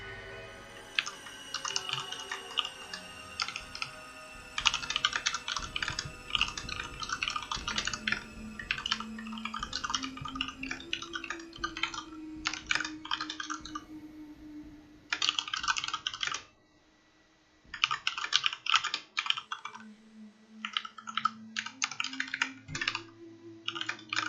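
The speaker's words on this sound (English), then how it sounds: "just typing a question" Someone typing on a computer keyboard, quick clattering bursts of keystrokes broken by short pauses, close and steady over a quiet room hum.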